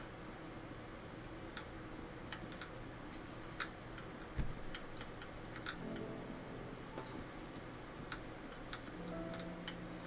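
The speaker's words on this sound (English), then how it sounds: "maybe I should stop doing the alarm clocks." Alarm clocks ticking inside the video game Superliminal, a faint, regular tick-tock heard alone over a low hum, with a soft thump midway.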